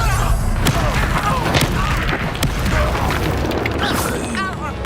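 Spell combat in Hogwarts Legacy, with the Bombarda explosion spell: loud, continuous booming and crashing blasts, with layered impacts and a voice over them.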